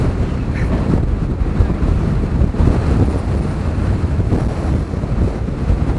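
Strong wind roars during a tornado storm chase, a dense continuous low buffeting rush blasting the microphone for the whole stretch, with no talk.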